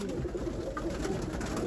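Roller pigeons kept in a loft coo softly and close by against a low, steady background murmur of the flock, with no talking.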